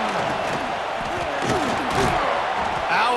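A stadium crowd roaring in EA Sports College Football 26, a steady wash of cheering with a few swells, and a commentator speaking over it.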